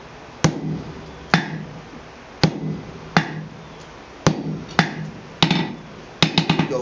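Hammer blows on hot steel blacksmith tongs against an anvil, about nine sharp ringing strikes spaced roughly a second apart, each followed by a short decaying ring, closing with a quick cluster of lighter taps; no talking.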